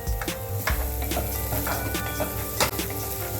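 Moth bean and mung bean sprouts stir-fry in a pan for vegetable upma, a loud steady sizzle broken by sharp scraping clicks of stirring against the pan.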